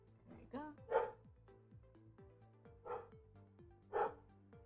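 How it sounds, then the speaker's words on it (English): A dog barks indoors, several sharp barks spaced about a second apart with a short yip first. The barks sound somewhat muffled, as if from another room, and a steady low hum runs underneath. "I apologize if you can hear my dog barking."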